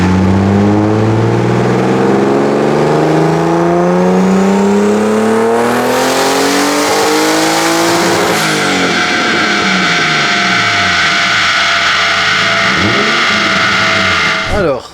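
A BMW E34 with a turbo conversion revs hard at full throttle, its engine note climbing steadily and then holding loud and sustained for the whole stretch, with no talk over it.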